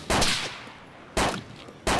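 Three sharp, loud gunshots from enemies in the video game DayZ Epoch, spaced roughly a second apart, each ringing out briefly before fading.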